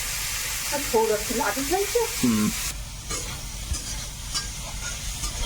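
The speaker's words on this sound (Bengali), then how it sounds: "এবারে এর মধ্যে চিংড়ি মাছটা দেবো হালকা একটু লাল করে" Prawns fry in a pan, a close, full sizzle with stirring that carries on steadily, while a brief voice sounds over it near the start.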